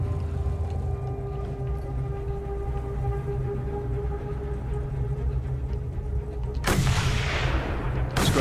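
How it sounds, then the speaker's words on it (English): A long-range sniper rifle fires once in a post-apocalyptic wasteland video game: a single sharp, loud crack near the end, breaking over a steady low droning ambience, with no voices. "I could take them out with a sniper rifle"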